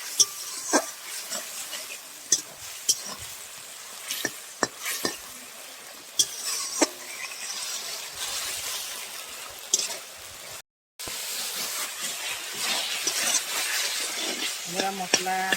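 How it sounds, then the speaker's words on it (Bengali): Spiced masala sautéed with a splash of water in a pan, soft sizzling with intermittent scraping and stirring clicks of a spoon against the pan, close and moderately quiet, with a short dropout partway through. "জল দিয়ে ভালো করে মশলাটাকে কষিয়ে নেব।"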